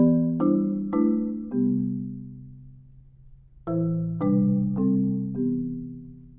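Mallet block chords from the opening bars of a piece, struck as double vertical strokes: four ringing chords, a pause, then four more, clear and resonant with no talking.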